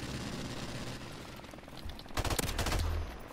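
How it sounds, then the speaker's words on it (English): Suppressed pistol shots in a video game: a quick cluster of muffled, rapid pops close up, following a stretch of quieter in-game background noise. "this is a good pistol when it's suspensored"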